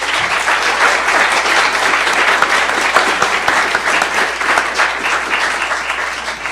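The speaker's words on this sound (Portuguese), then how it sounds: "Um salve de palmas, por favor." An audience at a 2017 political debate applauds a speaker's introduction, with loud, dense, sustained clapping throughout that stays steady without cheering.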